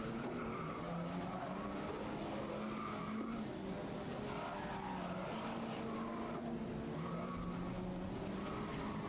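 A Nissan Skyline GT-R races laps in the Grid video game, its engine droning continuously and loudly with squealing tires and skids as other race cars roar nearby.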